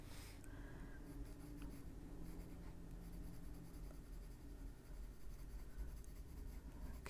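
Watercolor pencils coloring on paper for an adult coloring page, a soft continuous scratchy rasp of pencil strokes, close and quiet with no talking.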